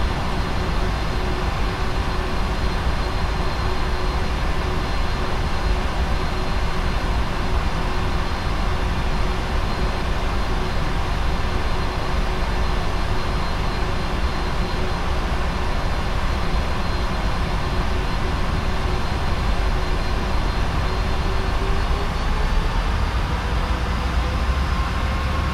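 A PMDG 747's jet engines on the takeoff roll in a flight simulator game at Paris CDG: a loud, steady broadband roar with a sustained tonal whine that slowly rises in pitch toward the end.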